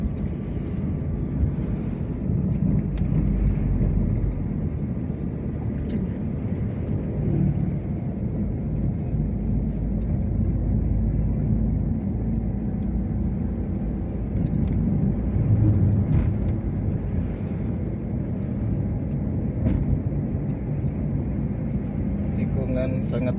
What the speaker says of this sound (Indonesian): di sebelah kanan kita juga banyak kendaraan besar yang sedang melintas